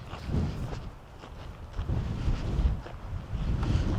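Wind gusting on a breezy, cold day outdoors, a steady low rumble buffeting the microphone and swelling and easing over a few seconds, with faint footsteps underneath and no talk.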